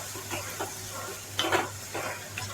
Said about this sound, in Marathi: गॅस मी करते, चांगलं मिक्स करून घ्यायचे